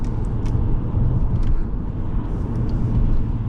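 A 2010 BMW 535i xDrive launches hard, its engine and road noise a dense, steady low roar that stays loud and close throughout, with no voices.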